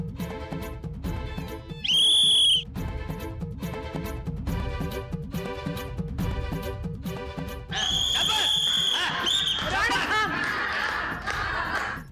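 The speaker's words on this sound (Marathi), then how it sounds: "शिट्टी वाजली की थांबायचं" A referee-style whistle is blown during a rough game, first in one sharp burst near the start and then in a longer shrill blast later, heard over steady rhythmic background music with voices.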